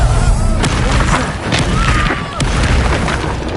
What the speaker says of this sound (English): Let it explode!